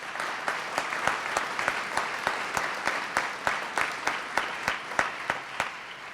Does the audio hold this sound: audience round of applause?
yes